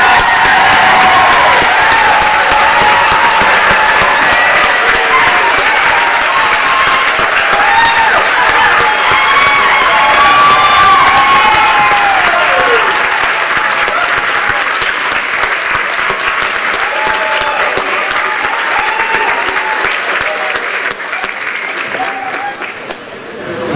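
A large graduation audience at a Penn State Great Valley commencement applauds and cheers loudly and steadily for master's degree recipients, a dense wash of clapping that holds for about twenty seconds before thinning and fading at the end.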